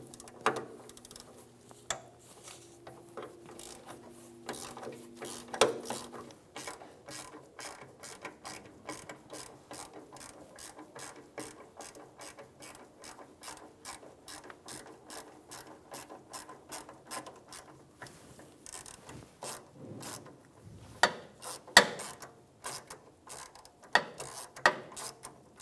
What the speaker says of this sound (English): Using a 10mm socket, we're going to remove the bolt holding the line to the pump.